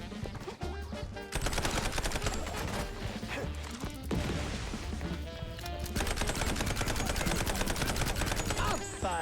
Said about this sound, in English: Boy, this is a gunfight.